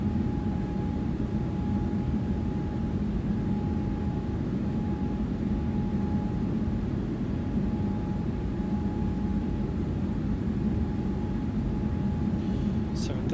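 A Toliss A321neo climbs in the X-Plane 12 simulator, its engines giving a loud, steady broadband roar with a faint sustained tone riding on top, unbroken for the whole stretch, no one speaking.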